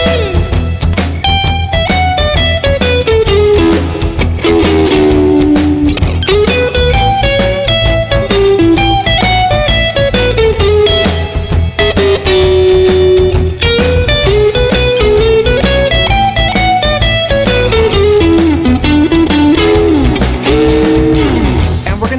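Blues guitar lick blending major and minor pentatonic scales, a continuous melodic line of bends and runs played over a steady backing for the whole stretch.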